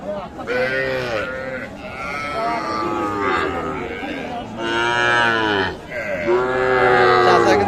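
Cattle, including young heifers and bull calves, at a busy rural livestock market give loud, drawn-out moos one after another, with nearby bleating and a murmur of crowd voices throughout.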